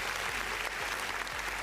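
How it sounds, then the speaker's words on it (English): Applause for a session at an online trade union regional workshop: a dense, steady patter of clapping that fills the short stretch evenly, with no voices over it. "Let's give a big applause for everyone."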